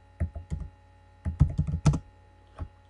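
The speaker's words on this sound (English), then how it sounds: "type in Pacifica Bay. And then we're going to type in tourism" Keys clatter on a computer keyboard as text is entered into an Excel spreadsheet, short bursts of close, crisp keystrokes separated by brief pauses in a quiet room.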